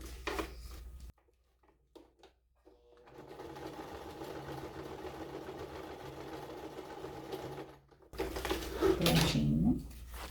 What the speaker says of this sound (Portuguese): Vou costurar essa parte só pra não sair do lugar